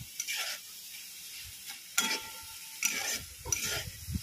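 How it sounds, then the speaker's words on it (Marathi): Potatoes frying until brown for sabudana khichdi are stirred in a pan: quiet intermittent scrapes and clatter of the spatula come in short bursts over a soft sizzle. "कुरकुर लागण्यासाठी ब्राऊन होईपर्यंत मस्त असे भाजून घ्यायचे."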